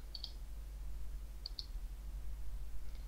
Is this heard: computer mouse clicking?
yes